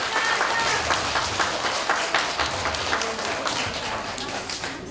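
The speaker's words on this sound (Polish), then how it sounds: "I jeszcze raz brawa dla naszych artystów za oczekiwania." Audience applause at a theatre festival, steady dense clapping from a large crowd filling the whole stretch at fairly loud level, with no voices standing out.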